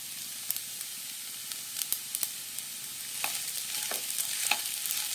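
Sabudana khichdi with crushed roasted peanuts being mixed in a hot pan, a steady sizzle under scattered spoon scrapes and taps that grow busier toward the end, no voices.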